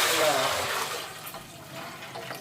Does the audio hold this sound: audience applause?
no